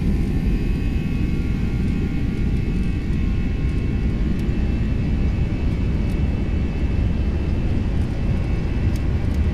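Airbus A320 jet engines spooled up for takeoff in the FlightFactor simulator, producing a loud, steady roar with a continuous whine, unbroken and without voices.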